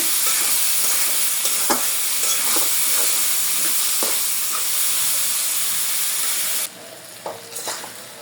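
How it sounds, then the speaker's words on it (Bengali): Shrimp, onion and potato fry in a pan, a steady close hiss and sizzle throughout with occasional stirring clicks, easing off near the end; no one speaks. "চিংড়ি মাছ পেঁয়াজ একটু ভালোভাবে এবং আলু ভালোভাবে ভাজিয়ে নেব"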